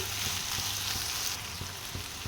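Broad beans frying in a pan for a methi curry give a steady, dense sizzle, with faint rhythmic stirring scrapes underneath and no voices.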